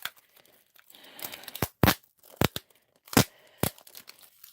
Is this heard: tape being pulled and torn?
yes